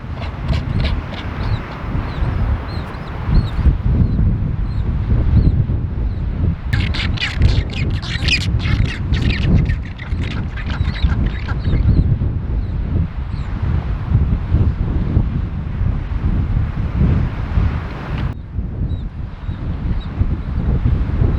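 Rockhopper penguin colony on the Falkland Islands coast at Sea Lion Island, with many harsh squawking calls overlapping continuously under strong, roaring wind noise.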